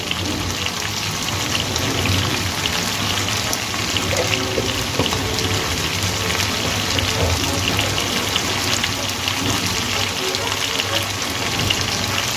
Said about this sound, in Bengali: এর মধ্যে দিয়ে দেবো সামান্য জল। যাতে করে মশলাটা পুড়ে যাওয়ার ভয় না থাকে।